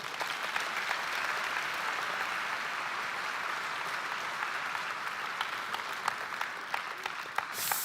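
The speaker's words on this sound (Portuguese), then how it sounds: "Pode aplaudir." Steady applause from a church congregation fills the space, a dense, even wash of many hands clapping that holds at the same level throughout, with a few sharper claps standing out near the end and no talking over it.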